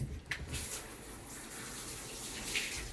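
Running water rinsing a dog during a bath, a steady close splashing gush of moderate loudness that continues for the whole stretch with slight surges.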